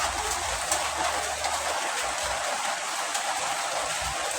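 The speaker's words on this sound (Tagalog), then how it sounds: "Ulan man, ulan." Steady rain on a rainy morning, a dense continuous hiss of falling water and drops filling the scene evenly from start to finish, with no talk.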